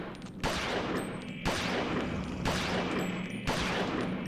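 Automatic pistol fire in the horror video game Eternal Darkness: Sanity's Requiem, four loud sharp bursts spaced about a second apart, each trailing off in a noisy decay, with no voices.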